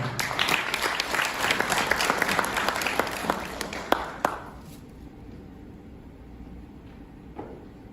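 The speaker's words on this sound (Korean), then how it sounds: "정세현 수석 부의장님을 큰 박수로 맞아주시기 바랍니다." An audience at a training session applauds to welcome a speaker, dense clapping with sharp individual claps that tapers off after a few seconds into quiet room tone with a stray clap.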